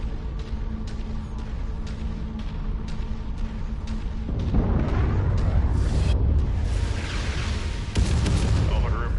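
Deep artillery blasts rumble through a Mechwarrior 5 Mercenaries battle, a steady low roar swelling into louder, heavier impacts midway, with radio-style chatter running beneath the booms.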